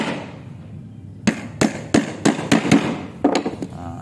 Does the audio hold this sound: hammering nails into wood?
yes